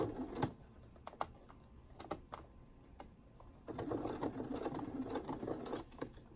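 A sewing machine top stitches a knit fabric collar just below the seam joining the inner and outer collar pieces, giving short, quiet bursts of rapid stitching with pauses, then a longer steady run.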